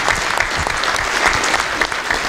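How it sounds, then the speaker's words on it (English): Audience applause for a man named Ronan at a live radio-history event, a brief, dense burst of many hands clapping at steady volume. "Can we just have a round of applause for Ronan, please?"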